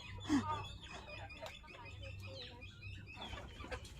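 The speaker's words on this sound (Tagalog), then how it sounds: "Oh, tuwan-tuwa yung mga manok ko." Several chickens cluck nearby in short, irregular bursts over a low background hum, with one louder squawk near the start.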